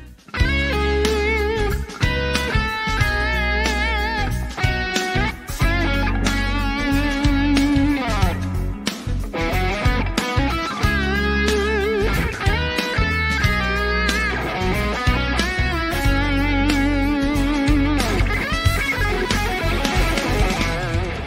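An electric guitar plays lead lines with expressive phrasing, bends and vibrato through a mildly distorted tone. A backing track runs underneath, and the playing is loud and continuous.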